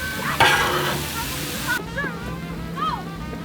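Shrimp cooking on a Blackstone griddle, a steady close hiss of frying with a brief scraping stir near the start, then a quieter sizzle with a few faint squeaks.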